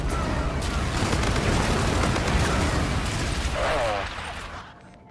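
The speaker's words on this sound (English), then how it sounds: "Friendly bombardment incoming." Heavy friendly artillery bombardment in Call of Duty: Infinite Warfare multiplayer Domination on PS4, a dense continuous roar of blasts and gunfire that stays loud and then fades over the final second.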